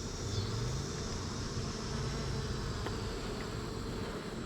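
Honey bees drone steadily around an open hive during an inspection, a dense continuous buzz close by with occasional louder passes of individual bees.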